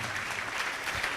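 A worship concert audience applauds, with dense, continuous clapping filling the hall at a steady level.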